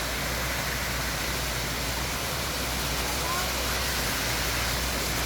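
The waterfall at Wat Suan Kaew temple roars as a dense, steady, loud rush of water filling the whole clip without letup.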